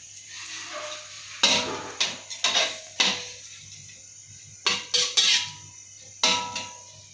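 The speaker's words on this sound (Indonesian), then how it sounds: "Aduk-aduk teman-teman biar merata dia bumbunya." Chicken feet tossed with spices in a metal pan, stirred with a utensil: sharp scraping and clanking strikes in uneven bursts, clustered in groups of two or three with quiet gaps between, close and fairly loud.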